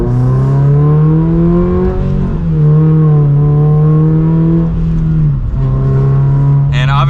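A modified Toyota GR86 sports car engine accelerating from inside the cabin, a loud sustained drone whose pitch climbs, drops at a gear change, climbs again and dips once more.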